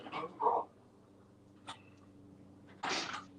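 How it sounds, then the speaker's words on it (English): Dogs bark in short bursts indoors, with a couple of yelps early, a brief sharp sound in the middle and a louder burst near the end over a steady low hum. "What are they barking over?"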